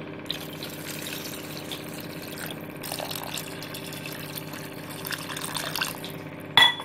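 Water is poured into a pot of goat leg paaya as a steady, close trickling stream, ending with a louder splash and clatter.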